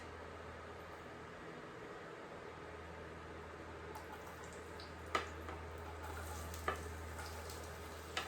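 Chopped onion, celery and diced carrots sauté in oil in a pot for a corn and vegetable chowder, giving a soft, steady sizzle with a few faint clinks near the end.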